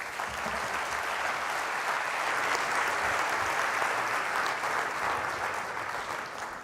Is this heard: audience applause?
yes